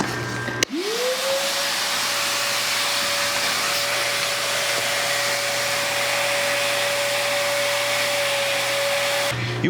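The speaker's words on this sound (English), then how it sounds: "we've got our shop vac, and this is a special coil brush that you can buy at any home center" A shop vacuum fitted with a coil brush switches on and runs in a steady, loud whine with a rushing airflow roar, sucking dust from refrigerator coils for several seconds before cutting off abruptly.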